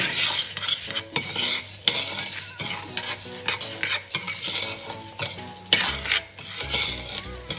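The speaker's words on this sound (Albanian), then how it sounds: "Dhe bëjmë një skuqje ja shumë" Rice being stirred and fried in oil in a pot for mushroom pilaf, with a spoon scraping and clattering against the pot in repeated strokes over a steady sizzle, close and loud.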